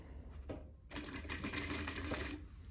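A domestic sewing machine stitches a coat dress in bursts, with a short run, a pause, then a longer steady whirring stretch of rapid needle strokes, close and fairly quiet.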